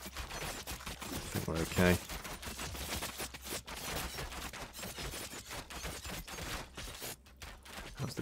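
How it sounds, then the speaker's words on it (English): Dense game gunfire from defenders in Thronefall crackles in rapid bursts throughout, with a louder volley near the start, while someone talks over it. "they're all shooting down there still"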